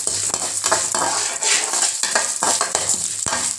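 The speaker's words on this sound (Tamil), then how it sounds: "இப்போ கொல்லு போட்டுக்கலாம் கொல்லு வந்து நல்லா ப்ரௌனாக வர வரைக்கும் நல்லா வறுத்துக்குங்க" Horse gram dry-roasting in sesame oil in a kadai, with a steady sizzle and repeated scraping stirs of the spoon against the pan.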